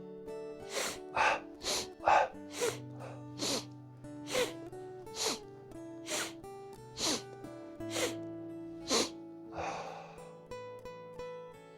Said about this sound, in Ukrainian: Приготувались вдих, видих.